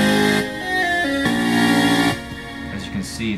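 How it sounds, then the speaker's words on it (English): Supersaw synth patch in NI Massive played as a sequence of sustained, bright, stacked-harmonic chords, loud and alone, changing notes every second or so with a brief tail at the end. "Here's just the Supersaw."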